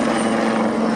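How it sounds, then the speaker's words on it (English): Wildcat helicopters of 815 Squadron pass at the Royal Navy air day at RNAS Yeovilton, a loud, continuous rotor and turbine roar filling the moment, close and steady. "helicopters pass by from left to right, the two Wildcats from 815 in the lead"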